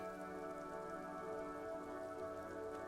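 Steady rain from the video game Disco Elysium, a faint, even patter of drops on a surface holding constant throughout, layered with a low sustained hum and no voices.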